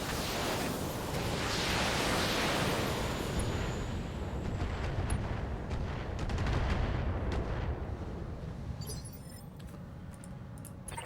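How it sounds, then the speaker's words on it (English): A mech in the video game BattleTech fires all its weapons at once, producing a continuous roar of heavy gunfire and explosive bursts that stays loud and dense throughout. "Firing all weapons."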